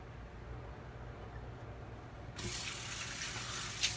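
A water tap turns on partway through and runs steadily into a sink to wet shaving soap, a close, even rush after a quiet start.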